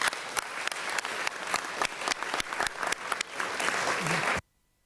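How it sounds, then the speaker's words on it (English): A conference audience applauds a panel after a session, steady dense clapping from a mid-sized crowd lasting about four seconds before stopping abruptly into silence. "Join me in thanking the panelists with a clap of hands."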